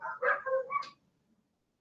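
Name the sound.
dogs howling at a siren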